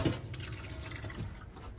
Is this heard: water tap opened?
yes